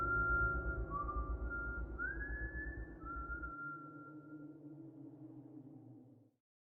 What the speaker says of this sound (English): don't whistle at night.